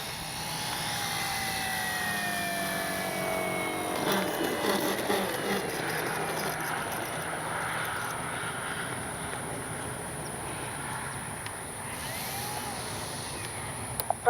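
An Avios Extra NG 300 RC airplane flies overhead with a thin, buzzing electric motor whine whose pitch rises and falls as it passes, moderately loud against light wind, ending with a few sharp knocks.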